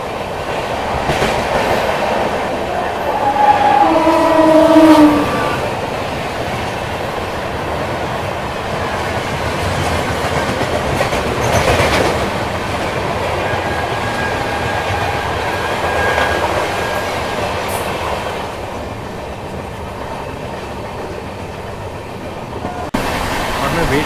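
A Duronto express train runs beside Chilika Lake in Odisha, its wheels clattering in a steady, continuous rumble heard from on board, with a brief squeal early on and people talking over it.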